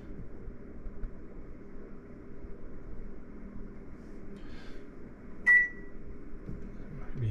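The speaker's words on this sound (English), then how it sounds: "It's time to microwave." A steady low electrical hum drones throughout, with a short sharp beep near the end.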